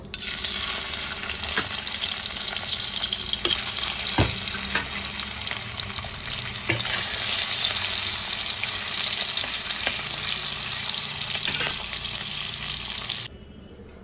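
Tangra fish frying in hot oil in a pan: a steady, dense sizzle lasting throughout, close and fairly loud, with a few soft clicks and stirring knocks, ending abruptly near the close, with no talking.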